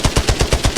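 Rapid automatic gunfire from a weapon in the video game Arena Breakout Infinite, a steady stream of about seven evenly spaced, punchy shots in under a second, loud and close with no voices.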